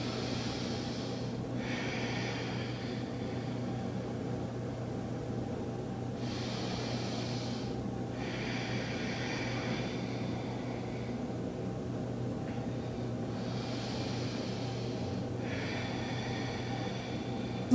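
Slow, deep breaths during a yoga power flow, three long airy inhales and exhales spaced several seconds apart, soft and close over a steady background hum.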